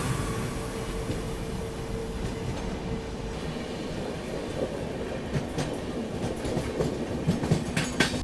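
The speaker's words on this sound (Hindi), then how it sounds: "देख के अच्छा लगा कि ट्रेन जो है वो चल रही है इस रूट पे" A passenger train runs along an Indian rail route between Junagadh Road and Bhubaneswar in the evening, with a steady rumble and rhythmic clickety-clack of wheels that grows busier toward the end, heard from inside a carriage.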